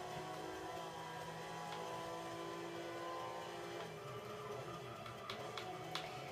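Steady engine drone of cars racing against a Ferrari in the Forza 6 racing game, a continuous mid-level roar with faint shifting tones and a few brief sharp clicks near the end, no talking.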